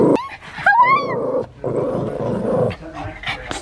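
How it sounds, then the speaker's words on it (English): A pet pug snarls, growls and lets out high yips up close, someone talking over the dog's noises. "So Poppy, I don't know why she had to be such a nasty, nasty doggy just then."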